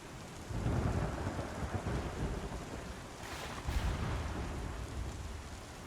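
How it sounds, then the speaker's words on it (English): Rain and thunder heard from inside a ship in the Star Citizen video game, a steady heavy rain hiss with low rumbling thunder swelling near the start and again later, continuous and fairly loud, with no speech. "that's the first time I've experienced rain in the ship"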